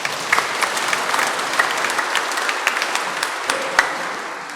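A church congregation applauds its Komsos youth communications team, a dense, steady wash of clapping from many hands with a few sharper claps standing out, sustained throughout.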